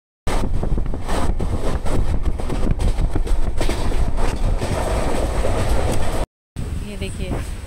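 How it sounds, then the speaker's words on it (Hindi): Riding inside a moving passenger train, a steady loud rumble with rhythmic clickety-clack of wheels and wind noise throughout. "देखो गाइस, हम लोग ट्रेन में बैठ चुके हैं।"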